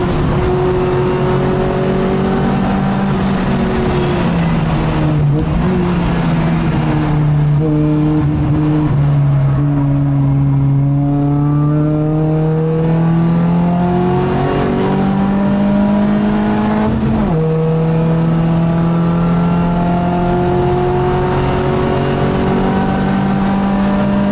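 A Peugeot 208 Racing Cup car's engine drones steadily at the Magny-Cours circuit, its pitch climbing and dropping as the gears change between fourth and fifth, with a sharp shift near the end. It is loud and continuous, and nobody speaks.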